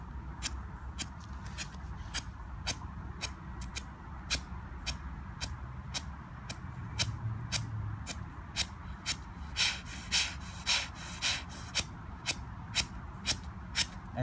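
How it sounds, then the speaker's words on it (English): Forceful yoga fire breath, a rapid series of sharp, regular nasal exhalations pulsing steadily like short bursts, close and clear, with no talking. "The breath goes like this."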